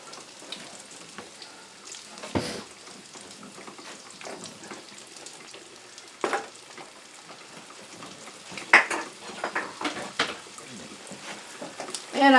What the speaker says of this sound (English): I mix that in until I have a paste